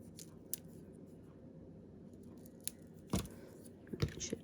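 Scissors cut a piece of paper for a handmade card-in-a-box, giving a few quiet, close snips late in the clip after soft handling sounds over low room noise.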